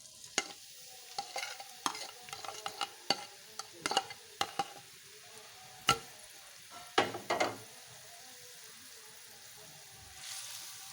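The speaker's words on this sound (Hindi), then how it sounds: "इसको लो फ्लेम पे मैं फ्राई करूंगी 2 से 3 मिनट के लिए।" Vegetables frying in oil for fried rice over a low flame, with soft sizzling under repeated scraping stirs of a spatula in the pan, irregular and close.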